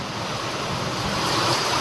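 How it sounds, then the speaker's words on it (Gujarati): Strong monsoon wind blowing beside an overflowing dam, a steady, loud, unbroken rushing roar for the whole moment with no talk. "પવન ભાઈ બહુ છે."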